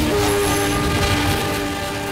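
A train rolling past on a railway track beside a market area, loud and close, with a sustained horn-like tonal drone over rumbling wheels and a steady roar throughout.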